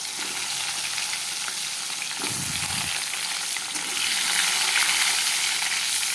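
Potatoes frying in hot oil with cumin seeds, a steady close sizzle and hiss throughout, with a brief stirring scrape midway and the frying growing slightly louder toward the end.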